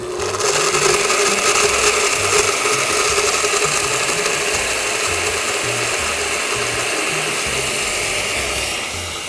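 A blender processes nuts and water for a vegan nut cheese, giving a loud, steady motor whir with a rough grinding rattle that stays constant throughout and fades slightly at the end.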